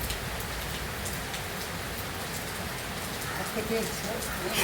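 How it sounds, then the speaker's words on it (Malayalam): Heavy rain pours down in a dense, even hiss of drops on surfaces, loud and unbroken throughout. "നല്ല മഴയാട്ടോ കണ്ടില്ലേ എന്ത് ശബ്ദം"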